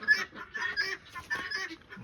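Chickens clucking in a coop as they are let out after a snowstorm, a lively run of close, overlapping clucks and squawks without pause.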